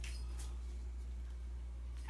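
A house cat, a mother cat, gives a brief, soft meow close by over a low background hum.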